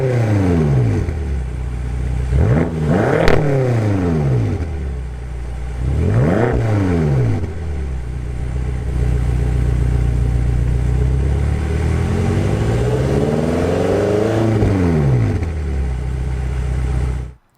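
A sports car's powerful engine, the same engine used in the BMW M5, revs up hard three times, each roar rising and falling sharply, then holds a long, loud rev before dropping back to a steady idle.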